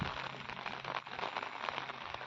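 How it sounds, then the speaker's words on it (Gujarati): Soft, continuous patter of rain falling on a surface, quiet and steady with no voices. "સાંજનો જ વરસાદ પડે છે"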